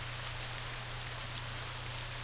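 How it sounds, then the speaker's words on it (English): Rain falls steadily in the Black Desert MMORPG, a soft, even hiss with no pauses or voices. "It's just started raining."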